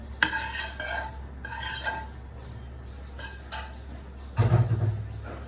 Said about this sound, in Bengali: এখন আমি টমেটো আর ডিমের মিশ্রণটা দিয়ে দিচ্ছি।